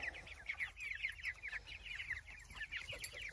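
A hen and her chicks on grass make soft, rapid clucks and peeps, a busy, continuous chatter of small calls at moderate distance over faint background noise.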